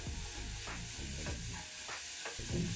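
Poppy seeds roast in a hot pan for a modak recipe: a faint, steady sizzle with intermittent scraping strokes of stirring, close by and with no voices.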